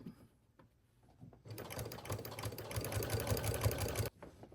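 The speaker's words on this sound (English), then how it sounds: "Press your fabric down while you sew and make sure that you are staying right on top of it." Sewing machine stitching a large tote bag made from dish drying mats, a steady fast mechanical whir with rapid needle ticks running for about three seconds after a few quiet handling sounds, close up and with no talking.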